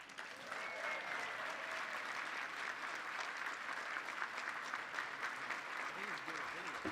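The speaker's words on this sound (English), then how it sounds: "Democrats, please give a warm round of applause for Pennsylvania's Senior" Democratic Party members at a winter meeting in Philadelphia applaud Senator Bob Casey, giving a warm, steady round of clapping that runs throughout. Voices and crowd chatter sit faintly underneath.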